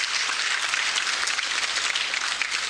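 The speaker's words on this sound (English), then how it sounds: "Ladies and gentlemen, can we give a more energetic applause?" An audience applauds at a State House ceremony in Uganda honouring outstanding teachers: an even, continuous wash of many hands clapping at moderate distance, sustained throughout without pauses.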